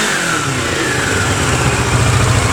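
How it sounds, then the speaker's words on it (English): A Kawasaki motorcycle engine runs loud and close, revving with a steady throaty pulse that grows rougher and deeper toward the end, with no voices. "definitely sounds like a Kawasaki"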